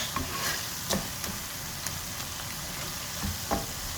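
Masala frying in a pan for a mixed vegetable curry of potatoes, carrots and peas, with a steady broadband sizzle, a few sharper spoon scrapes and pops over it, close and moderately loud, with no talking.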